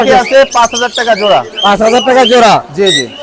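Cockatiels and other caged birds at the Mirpur bird market fill the air with loud, overlapping squawks and chirps in rapid bursts, close by, with voices mixed in.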